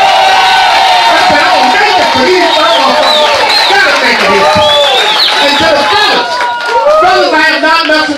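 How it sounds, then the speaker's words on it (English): Comedy club crowd at The Mist in Harlem responds with loud cheering, whoops and clapping, a dense, continuous roar of voices throughout. "Give me a round of applause, y'all"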